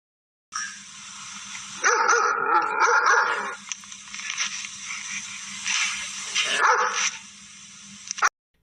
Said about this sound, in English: D. D for dog.